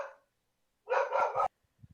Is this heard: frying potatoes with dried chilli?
no